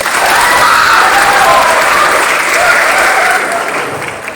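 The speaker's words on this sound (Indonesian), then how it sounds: "Tepuk tangannya" Students and staff at a school orientation opening clap loudly for a teacher being introduced, a dense, continuous burst of applause with faint cheering mixed in.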